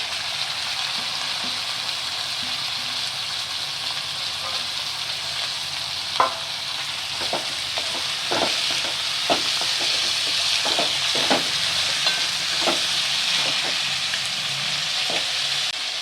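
Onions and tomatoes frying in a pan for a Burmese-style dried fish dish, a continuous close sizzle broken by repeated clacks and scrapes of a spatula stirring, with no talking.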